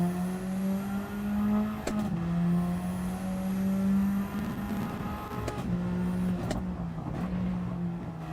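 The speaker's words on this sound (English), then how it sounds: "Little bit of a burble from the exhaust as we change down to second." Race car exhaust in a Camaro Cup racing video game, a steady engine drone with a brief burble as it downshifts to second gear, continuous and fairly loud with no talk over it.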